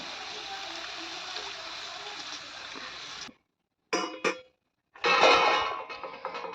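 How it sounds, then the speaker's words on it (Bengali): Water pours into a pan of simmering fish curry masala in a home kitchen, giving a loud, steady rushing splash that stops abruptly, then returns in short bursts and a final longer pour. "তো এবার জল দিয়ে দেবো।"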